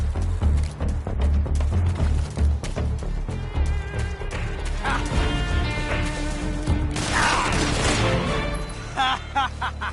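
Weapon reloading in Metal Gear Solid 3, a busy run of loud metallic clicks, clacks and mechanical knocks with a few heavier crashes, set against game sound.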